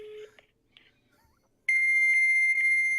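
Electronic dial-up modem tones come through a phone on speakerphone: a brief warble, then a loud sustained steady beep with harmonics, near and alone, after a quiet pause.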